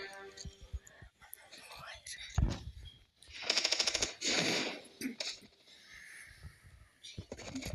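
Bursts of rapid gunfire from a shooting video game crackle out in a few short volleys between quiet gaps, with a person whispering and murmuring close by in between.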